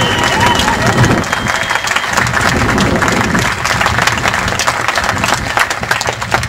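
A large crowd at a get-out-the-vote rally in Mukwonago, Wisconsin, applauds loudly and steadily, with scattered cheers and murmuring voices mixed into the dense clapping.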